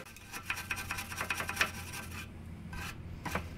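Wire brush scrubs loose rust off the rear shock area of a 1999 Kia Sportage, rapid rasping back-and-forth strokes in quick bursts with brief pauses, close and fairly quiet.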